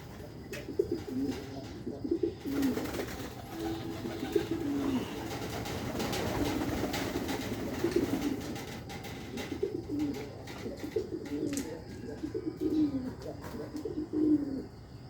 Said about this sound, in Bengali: এটা হচ্ছে কিং কবুতর